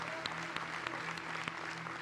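Church congregation applauding together during a sermon, a steady mass of clapping with no voices over it.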